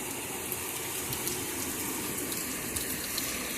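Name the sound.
flowing drinking water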